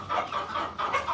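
Shamo chickens cluck inside a coop, a quick run of soft, close clucking calls overlapping in a short burst.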